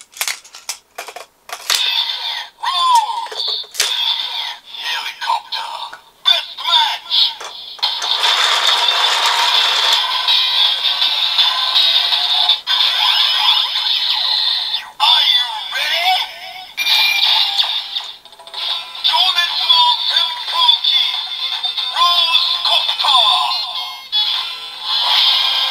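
Kamen Rider Build DX Rose Copter Full Bottle toy plays its electronic sound effects and music, a loud, busy run of bright tones, clicks and rattles that lasts throughout, with people talking faintly underneath.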